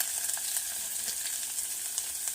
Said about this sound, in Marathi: ह्यात आता आपण आलं घालून घेऊ। आलं चांगलं भाजलं की